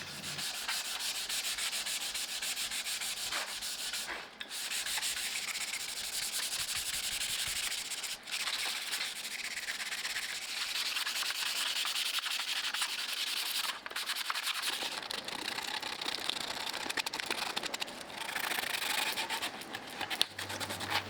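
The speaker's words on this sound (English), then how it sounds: "Some of the sanding I was able to do using an orbital sander" Steady, continuous abrasive rubbing of sandpaper by hand on wooden frames, close and fairly loud, with brief pauses between strokes.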